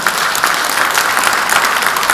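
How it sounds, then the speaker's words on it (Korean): A brief burst of loud, dense applause from an audience at a training lecture for local council members in Korea, close and continuous with no speech. "박수 한번 쳐주십시오"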